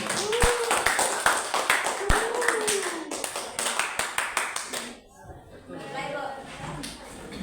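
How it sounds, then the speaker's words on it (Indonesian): A classroom of students claps for a presenting group, a brisk patter of many close hand claps for about five seconds, with a voice speaking over them, then the clapping fades into quieter murmuring. "Sebelumnya kita tepuk tangan dulu untuk kelompok 1"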